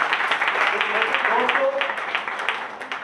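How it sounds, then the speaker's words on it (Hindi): An audience at a distributor meeting claps loudly and steadily, a dense wash of many hands that holds from start to finish, with a voice faintly audible underneath. "मैं चाहूंगा जोरदार तालियां"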